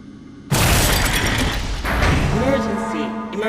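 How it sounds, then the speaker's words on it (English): A shark smashes glass in a Resident Evil video game: a sudden loud crash and shatter, followed by a sustained rumbling roar of rushing water and rattling debris with a tonal ringing underneath. "The shark picks up on me trying to do the same and smashes the glass to try and stop me."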